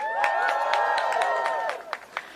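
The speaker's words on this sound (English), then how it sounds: "Let's have one more round of applause for Mary Kay and Shed." A crowd at a student debt cancellation rally cheering and whooping with scattered clapping, loud and sustained, then thinning out toward the end.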